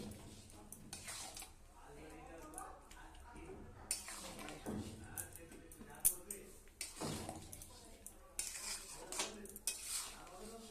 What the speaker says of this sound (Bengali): এবার নেড়ে নেড়ে নেড়ে শুকনো করি।